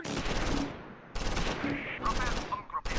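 Crackling rifle and machine-gun fire from a World War II battle on a hill in Close Combat IV, three sharp loud bursts each trailing off into echoing decay, with no voices.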